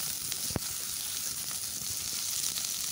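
Chillies, ginger and garlic frying on a high flame for bottle gourd skin chutney, giving a steady, close, even sizzle throughout with one brief sharp tap near the start.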